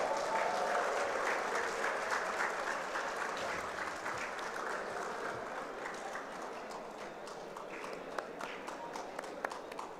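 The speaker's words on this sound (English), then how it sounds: "Let's give a huge round of applause for Mr." Audience applause at the WordCamp Nepal event, a loud burst of clapping that gradually thins and softens over ten seconds, with a few scattered claps near the end.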